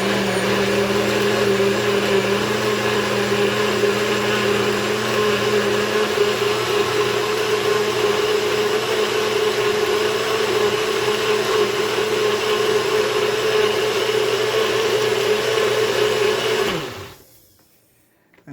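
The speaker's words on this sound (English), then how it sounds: "And that's it for blending." A blender runs steadily and loud, blending a sea moss, okra and flaxseed drink, a continuous whirring motor drone that holds for about seventeen seconds before cutting off abruptly into near silence.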